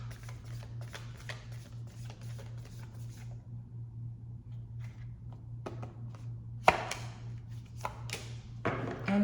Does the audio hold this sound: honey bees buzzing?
no